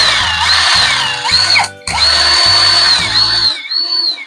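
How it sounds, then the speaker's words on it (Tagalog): A portable rechargeable cordless drill fitted with a round-type drill bit through an adapter whines loudly and close in repeated bursts, the motor pitch rising and falling, with a short pause midway and no talk. "pwede na yung round type na drill bit natin dahil may adapter na tayo"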